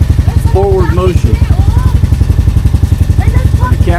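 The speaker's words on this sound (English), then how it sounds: "Once they crank the engine, the propeller is turning, so there's no neutral." A boat engine at Subic Bay runs with its propeller turning, a steady, loud, rapidly pulsing thrum heard close, with a person's voice talking over it.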